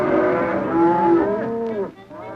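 Cattle on a cattle drive moo loudly and close, several long drawn-out calls overlapping in quick succession before fading, with no talk.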